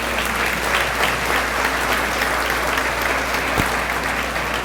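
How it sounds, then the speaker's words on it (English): Sustained audience applause fills a senior banquet hall at the University of Dubuque, steady and dense throughout with no speech over it. "Let's give a big round of applause to Antonio and Nathan."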